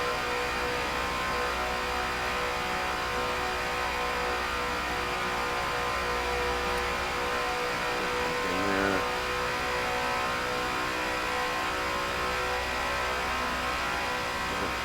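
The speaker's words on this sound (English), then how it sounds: "you guys just hear that little dip in the engine late in the corner" Race car engine of a #17 Ford Falcon FG X in Forza Motorsport at Daytona, a steady mid-pitched drone held throughout with a brief dip in revs partway through, heard alone with no talk.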